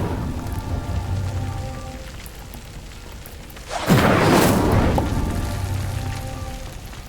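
An Incendio fire spell lights a pyre in Hogwarts Legacy: a sudden roaring whoosh of flame bursts in near the middle and fades slowly, over a soft steady game ambience.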